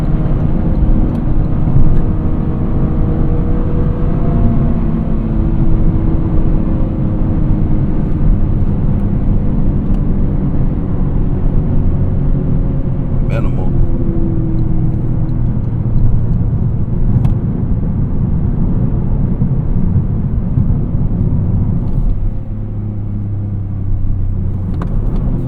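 Loud, close engine note from a Toyota GR Corolla on 18-inch wheels driving through turns, revs rising and falling in gliding sweeps over a constant road rumble, with no voices.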